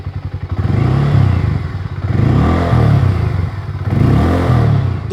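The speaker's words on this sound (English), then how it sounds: "I'm going to rev it up for you, and you tell me, how do you think the exhaust note is on the X440?" A Harley-Davidson X440 motorcycle revving up close, its deep exhaust note rising and falling in three throttle blips with a clattery idle between them and no voices over it.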